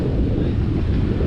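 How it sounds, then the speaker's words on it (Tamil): Strong sea wind on the Pamban bridge buffets the microphone in a continuous loud low roar, steady throughout with no speech. "காற்று நல்லா காற்றா இருக்குது."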